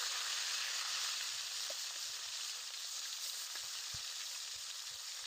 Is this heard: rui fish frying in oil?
yes